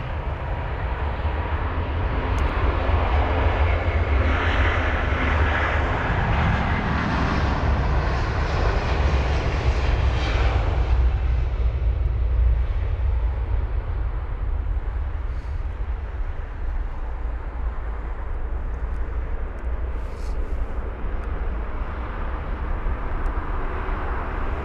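A British Airways airliner departs London Heathrow for Denver with a steady, loud engine roar. The roar rumbles strongest early on and then slowly fades into a broad, distant wash.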